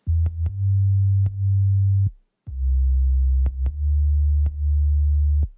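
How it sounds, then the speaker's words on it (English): A deep mono sub-bass sine tone plays in a rhythmic pattern of sustained notes, each starting with a small click, loud and clean with a brief gap midway and no voices. "The sub itself is just a sine wave that we converted to audio."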